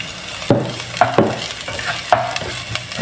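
Onions fry in a pan while being stirred, a continuous sizzle broken by several distinct scraping strokes of a utensil in an uneven rhythm, close and fairly loud.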